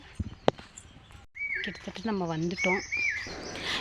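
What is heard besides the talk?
koel bird calling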